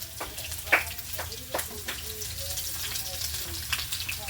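Salmon fries skin-side in a pan with a steady, close sizzle and crackle, broken by a few sharp pops and light utensil clatter.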